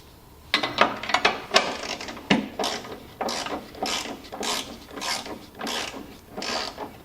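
A ratcheting wrench works metric fasteners on a John Deere RX75 riding mower, clicking in about a dozen quick, regular bursts of close mechanical ratcheting with no talking over it.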